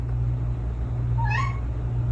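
A pet cat gives a single short rising meow indoors, clear and close, over a steady low hum.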